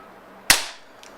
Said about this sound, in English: the recoil of the gun is actually increasing when I am shooting in high power